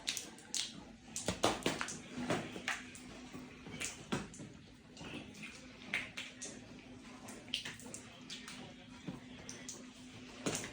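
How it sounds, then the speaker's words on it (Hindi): Water drips from a roof leaking during heavy monsoon rain in a village house, a steady scatter of sharp, uneven drops landing close by, some louder splats among fainter taps, over a low constant hum with no talk. "जो पीछे आवाज आ रही है टपक टपक की,"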